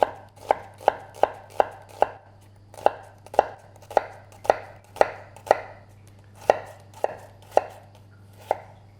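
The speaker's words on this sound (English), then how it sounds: "we're going to make some vertical slices" A kitchen knife makes vertical slices through an onion on a cutting board, giving about fifteen crisp, close chops in a fairly even rhythm, with one brief pause partway, over a low steady hum.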